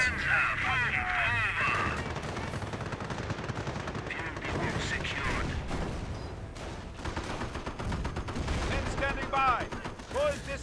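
Dense gunfire and machine-gun bursts in the World War II strategy game Company of Heroes hit a Heavy Panzer tank, with loud rattling volleys and heavy impacts continuing throughout under talking voices.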